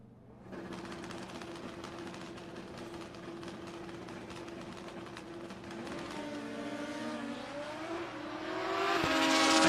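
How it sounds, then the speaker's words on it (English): Drag racing motorcycles at a sportsman meet launch down the strip, their steady engine drone building and rising in pitch toward the end as the bikes accelerate, loud and without talk. "Next up, it's Ian Burt and David Young. Young on the blue bike on the tower side."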